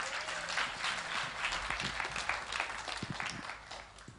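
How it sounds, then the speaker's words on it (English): An audience claps for a group of musicians at a live event with Shankar Mahadevan, moderately distant, with scattered louder claps and low rumble underneath. "a loud round of applause to all these musicians over here"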